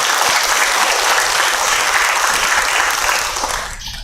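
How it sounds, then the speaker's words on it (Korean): Loud, dense applause from an audience at a CEO lecture gathering at a Buddhist temple, a steady roar of many hands close by that fades out at the end. "큰 박수로 부탁드리겠습니다"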